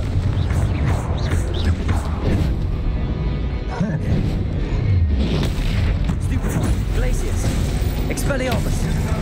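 Explosive spells go off in Hogwarts Legacy during a combat sequence, with booming blasts and crashes layered over a constant dense din of battle effects and music, while a voice keeps shouting spell names throughout.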